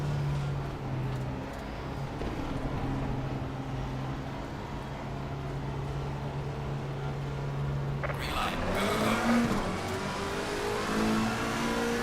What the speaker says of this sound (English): We've got heavy braking into the first chicane.